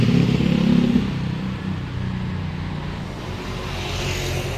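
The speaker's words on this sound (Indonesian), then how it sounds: "Dan ini ternyata ada bis pariwisata ya, dua bis." Two tour buses, a Limas Eksekutif and an SC Trans medium bus, are parked in front of a residential alley, their engines idling in a steady, fairly close low rumble with a slightly louder start.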